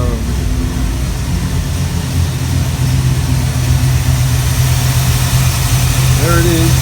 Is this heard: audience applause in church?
no